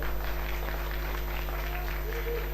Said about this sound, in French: Merci pour les applaudissements d'ailleurs.